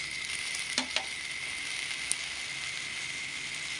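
Fried rice with oyster sauce fries in a pan with a steady, loud, continuous sizzle, broken by a couple of soft stirring knocks early on and a sharp click later.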